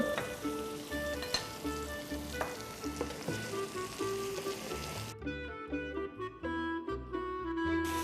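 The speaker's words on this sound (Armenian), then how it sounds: "Հիմա ավելացնում ենք ղանձիլը։" Sorrel hits a hot pan in an Armenian home kitchen and sizzles steadily and loudly, with the crackle dropping briefly halfway through and then carrying on under soft stirring clinks, with no talking.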